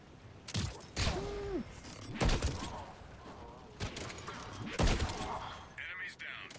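Gunfire in the video game Mass Effect 3: several bursts of weapon shots spaced across the clip, loud and close, mixed with game sound effects and a synthetic tone.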